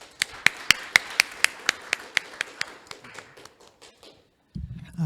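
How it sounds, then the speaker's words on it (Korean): Sparse applause after Professor Kim Seung-ju's lecture at a security forum: a handful of sharp, evenly spaced claps that thin out and fade over about four seconds, followed by a low thump. "멋진 강연을 해주신 김승주 교수님께 다시 한번 큰 박수 부탁드립니다."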